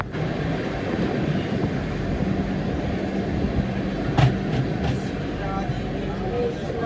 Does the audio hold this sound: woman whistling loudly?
no